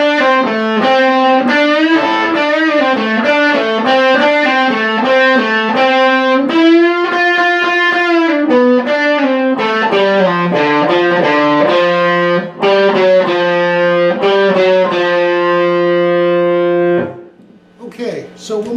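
Distorted electric guitar plays a lick, a steady run of loud, harmonically rich notes riffing continuously before cutting off near the end.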